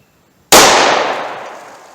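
A single .357 Magnum Gold Dot round is fired from a 2-inch snub-nose revolver: one sharp, very loud crack after silence, followed by a ringing decay that fades over more than a second.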